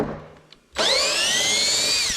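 A power drill spins up and whines steadily, backing a quarter-inch hex-head bolt out of the 2x4 lumber that fastens a Kuuma Vapor-Fire 100 furnace to its pallet. The drill is close and loud and follows a brief quiet moment.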